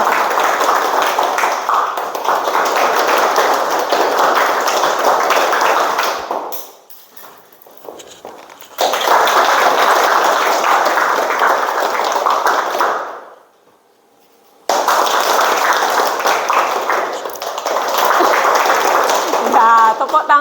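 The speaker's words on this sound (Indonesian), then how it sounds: "Tepuk tangan dulu" Classroom students clapping their hands in unison, a loud sustained burst of clapping in three bouts with short quiet gaps between them.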